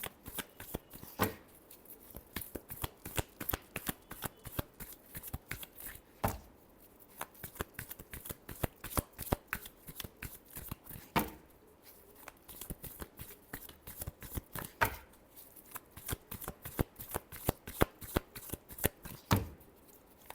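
Tarot cards being shuffled over and over, dense rapid riffling bursts with brief pauses between rounds, close and clear with no talking.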